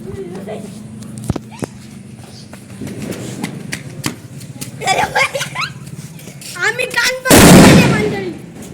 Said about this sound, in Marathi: आता सुताई बॉम्ब शेवटचा श्रेयस लावतोय